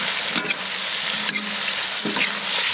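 Shrimp and chicken feet stir-fry in a wok with a continuous loud, close sizzle, broken by a few scraping strokes of a spatula.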